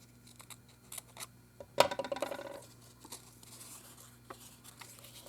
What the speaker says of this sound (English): And I'm just going to cut the back side again.